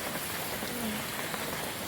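Steady rain pours down, a dense, even hiss of drops hitting a surface with no pauses, close and fairly loud throughout.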